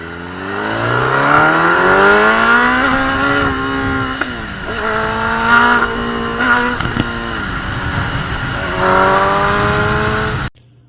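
A Kawasaki ZX10R sport bike engine, a first-generation model with a mid-range power cut fault, revs loudly and repeatedly on a test ride, its pitch climbing and dipping in steady sweeps before cutting off abruptly.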